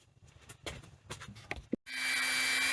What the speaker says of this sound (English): So I've just got this little Dremel just trying to